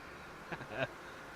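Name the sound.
small aircraft buzzing like a mosquito in Tower! 3D Pro video game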